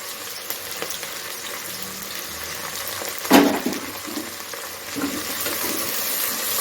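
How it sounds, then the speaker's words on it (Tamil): Onions and curry leaves sizzle steadily in a hot pan for a Chettinad rice and lentil dish, a continuous close frying hiss with one brief clatter of stirring midway and no voices. "வெங்காயம் வந்து கொஞ்சம் நல்லா வதங்கி வரட்டும்"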